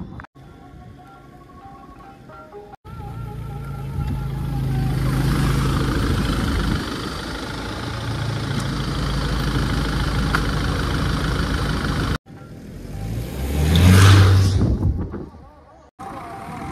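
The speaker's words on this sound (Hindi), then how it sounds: "आप लोगों में आप चला के दिखाता हूँ ये गाड़ी कितना अच्छा लगता है मुझे" A Mahindra Thar 4x4 diesel engine runs and drives, a low steady rumble that swells under faint talk, then a sharp rev surge near the end.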